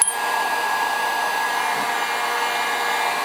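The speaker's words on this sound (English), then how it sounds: "If you want one of these heat guns, it's like 18 bucks on eBay." A small eBay heat gun blows steadily as it warms the parts of an STI Spartan 1911 pistol for froglubing, a constant close, loud airy whoosh that carries through unchanged without talk.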